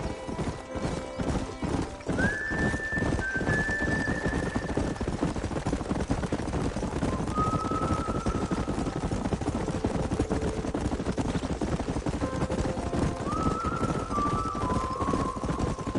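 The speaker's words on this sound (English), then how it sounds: "There's the horses!" A herd of horses gallops in Red Dead Redemption, a dense, continuous clatter of hooves filling the scene, with several loud neighs and whinnies rising over it at intervals.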